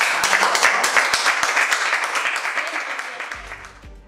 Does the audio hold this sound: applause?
yes